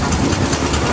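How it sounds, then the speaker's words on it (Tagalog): A fishing boat engine whose cylinder head was recently broken runs loud and close, a dense steady drone with a rough, knocking low rumble throughout. "Si Kuya Ebing binibirikin pa yung kanyang makina"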